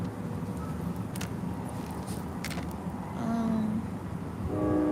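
A train passes at a distance, a steady low rumble under outdoor background noise with a faint horn-like tone near the end.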